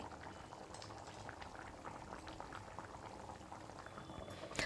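Telugu fish curry (pulusu) simmering in a pot, soft steady bubbling and popping close by, fairly faint, with a slight clatter at the very end and no speech.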